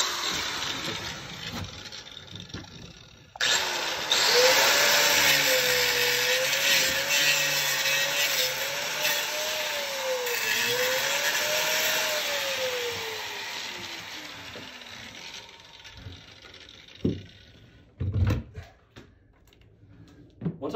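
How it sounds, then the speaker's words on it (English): A loud power saw grinds steadily through a compressed earth block wall for about twelve seconds, its pitch wavering, then stops, followed by scattered knocks and scraping. "I'm just gonna cut a section of this block out so that I can fit the box in there."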